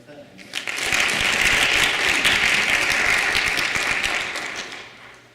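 Audience at a school board of education meeting applauding, a dense burst of clapping that swells quickly, holds steady for several seconds and then tapers off, fairly distant in a large room.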